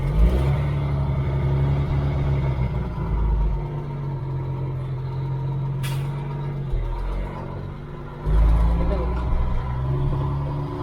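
An old Volvo semi truck engine idles at about 1600 RPM, a steady close diesel rumble with a strong low drone, a brief hiss near the middle and a louder surge toward the end, with someone talking over it.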